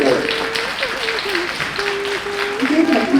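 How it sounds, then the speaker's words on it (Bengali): Loud audience clapping at a Bengal dance T20 Premier League event, a dense, continuous patter that holds for several seconds under a person talking. "আরে জোরে হাত তালি।"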